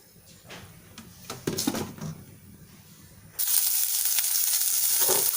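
Oil poured into a kadai frying pan starts sizzling partway through as a steady, loud, broadband hiss that holds to the end. A few softer clinks and rustles come before it, and no one speaks.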